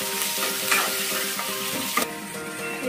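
On a high flame, chopped onions sizzle steadily in a hot pan as a spoon stirs them, with a few sharp scrapes and clinks and no talking.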